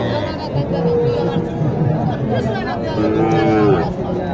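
Cattle low and moo at a busy cattle market in Naogaon, with a red cow among the herd, the calls rising over steady crowd chatter and hubbub.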